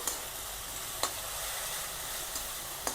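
Egg roast masala sautéing in ghee makes a soft, continuous sizzle that carries through, with a few brief spatula scrapes standing out over it.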